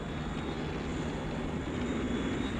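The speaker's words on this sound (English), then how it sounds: "Penelope and Alan, in a few moments, I'm going to open up my jet engines." Jet engines on a Thunderbirds puppet craft opening up, a steady loud broadband roar with a thin high whine holding across the whole stretch, no voices over it.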